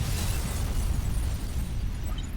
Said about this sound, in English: The Paris Hotel bombing.